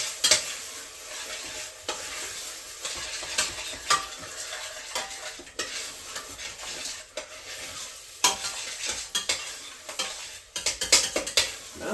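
A spoon stirs chili beans with Texas Pete hot sauce in a pot, with scraping and clinking against the metal over a steady sizzle, continuing for several seconds with no talk.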